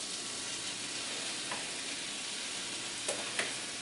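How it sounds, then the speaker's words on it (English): A steady, hissing sizzle of food frying in a wok for a burrito filling fills the clip, close and continuous, with a couple of faint clinks of stirring near the end. "I'm cooking the stuff in my favorite cooking vessel, wok"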